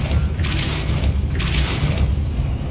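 A Depulso spell cast in the video game Hogwarts Legacy, heard as two loud whooshing booms about a second apart over a deep rumbling game backdrop, close and without talk.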